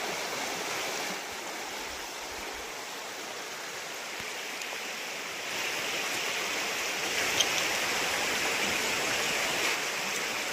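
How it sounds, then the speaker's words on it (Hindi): Fast-flowing river water rushing in a steady, broadband roar close by, swelling slightly louder midway, with no voices over it. "तर पाण्याचा ही जी नदीचा प्रवाह आहे, या प्रवाहात आता पाणी खूप जोरात वाहतंय."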